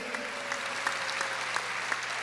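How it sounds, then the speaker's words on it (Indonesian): Congregation at a church service applauds warmly, dense steady clapping that holds evenly throughout. "Tepuk tangan yang meriah."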